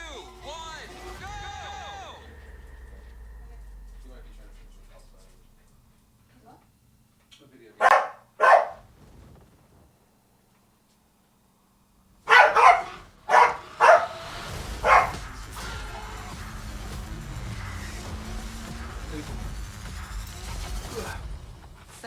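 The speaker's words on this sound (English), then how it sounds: "I don't know if you could hear that barking." A dog barks in short loud bursts, a pair and then a rapid cluster, fairly close, with quieter stretches and other sounds between.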